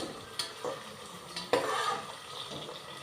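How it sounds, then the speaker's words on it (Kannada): Onions fry in hot oil for a biryani, a soft close sizzle with two sharper scraping stirs of a spoon in the pan. "ಎಣ್ಣೆ ಕಾದ ನಂತರ ಈರುಳ್ಳಿನ ಹಾಕಿ ಚೆನ್ನಾಗಿ ಬಾಡಿಸ್ಕೋಬೇಕು"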